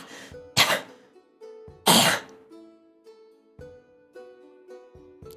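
A person voices a character's harsh cough after a heavy, dry drag on a hookah pipe, two loud close coughing bursts with smaller rough throat sounds over soft sustained background music.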